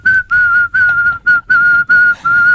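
A person whistles a tune loudly and close, in several sustained, steady notes separated by short breaths, clear and alone.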